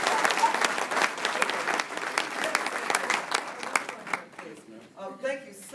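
An audience applauds after a speaker at a Board of Regents meeting, a lively burst of many hands clapping in a hall that thins out and fades as a voice begins talking near the end.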